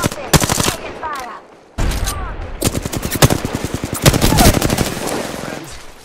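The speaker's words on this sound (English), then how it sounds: "Contact. I'm spotted. Taking fire." Rapid automatic gunfire in the shooter game Apex Legends, loud bursts of tightly spaced shots with short pauses, and a brief lull near the start.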